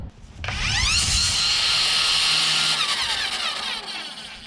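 Electric weed eater running on its low speed setting, a steady high-pitched motor whine that starts abruptly, holds loud and close with slight wavering, then eases a little toward the end, with no talking.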